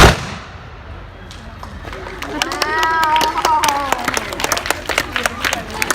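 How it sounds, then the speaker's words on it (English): A matchlock musket fired at a colonial Jamestown historical demonstration: a single loud report early on, then echoing crowd noise, applause and voices amid outdoor ambience. "That is the matchlock musket."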